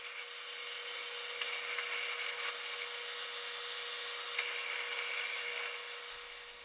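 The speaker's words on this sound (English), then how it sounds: "When drilling antler, it's preferable to drill through the marrow at the center of the piece." Drilling a hole through a piece of antler near its marrow center gives a continuous high-pitched whirring grind, steady and close, for several seconds with no talk.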